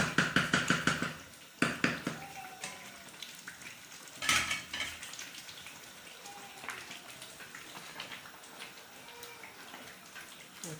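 Saka saka, cassava leaves cooking in a pot, is stirred with a run of rapid scraping strokes at first, then scattered utensil knocks over a soft simmering bubble.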